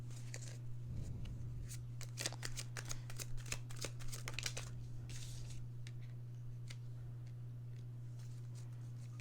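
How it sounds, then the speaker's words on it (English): Soft, quiet riffling and snapping of tarot cards being shuffled, in uneven bursts of crisp clicks, over a steady low electrical hum. "These cards are a little harder to shuffle."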